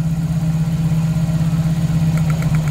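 A Toyota 4A-FE engine with a head gasket problem idles steadily with one spark plug lead pulled, a low, constant hum and slight uneven roughness, close and continuous with no talking.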